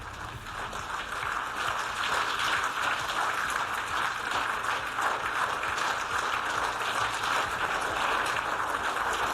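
A large audience at a European Union meeting gives Zelensky a standing ovation, with dense, steady clapping that holds at an even level for several seconds and no talking.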